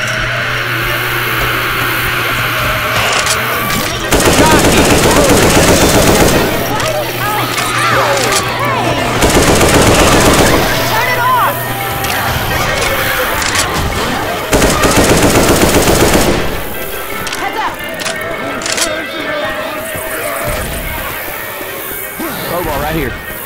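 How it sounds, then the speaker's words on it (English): Assault rifle fire in Left 4 Dead 2, loud sustained automatic bursts in long stretches with brief gaps, up close, amid other game noise and voices. "Grabbing the assault rifle."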